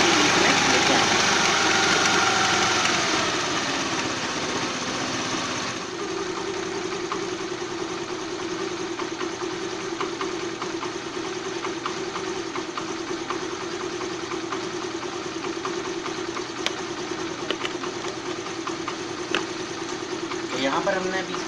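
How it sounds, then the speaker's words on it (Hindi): A Hero Pleasure scooter engine idles steadily after a carburetor adjustment, a low continuous hum running throughout; a voice talks over the opening seconds. "अब इसका जो फिक्स एक्सीलेटर है उसको थोड़ा कम करेंगे हम और गाड़ी की रेट को थोड़ा 1000 से 800 आरपीएम के बीच में लेके आएंगे।"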